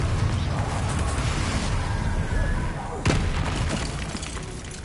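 Fiery Confringo spell blasts in Hogwarts Legacy on PS5, a dense roaring wash of explosions and crackling impacts with a sharp burst near the end, under continuous game noise.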